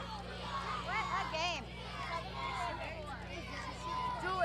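Crowd of spectators in a PC basketball video game, steady babble of excited young voices and cheers with scattered shouts, continuous and moderately loud over a low hum.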